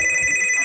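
A telephone rings with a steady, high electronic trill, heard close and clear in one short burst.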